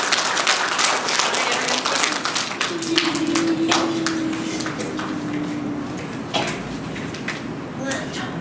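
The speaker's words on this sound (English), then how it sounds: "we're going to give a big round of applause to our terrific citizens" A school awards assembly applauds its citizens, a room of children clapping in an uneven, sustained patter with sharper individual claps standing out, voices murmuring underneath and a faint tonal ring partway through.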